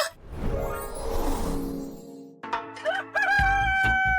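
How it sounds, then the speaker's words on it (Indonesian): A rooster crows loudly and close by, one long rising-and-falling cock-a-doodle-doo followed by a sharper burst of crowing, with no talk over it. "Aku benci ayam jago."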